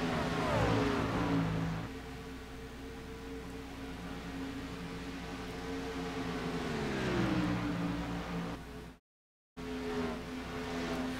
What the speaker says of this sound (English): I love the sound of those trucks whizzing by like that.